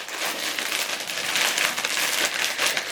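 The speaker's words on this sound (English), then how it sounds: "Excuse the noise while I put this back in the bag." Running gear is stuffed back into a bag, giving close, continuous crinkling and rustling of fabric and plastic with no speech.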